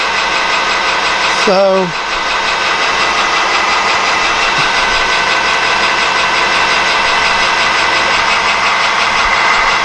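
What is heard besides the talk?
metal lathe turning parts for a kitchen shelf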